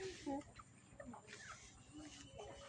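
Chickens clucking close by, several short calls scattered through a busy, noisy background with a faint voice now and then.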